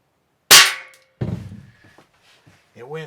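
A single sharp shot from a fully pumped Daisy 880 air rifle cracks loudly and close, followed by a brief metallic clang with ringing decay as the pellet strikes galvanized steel, then quiet shuffling and a short voice at the end.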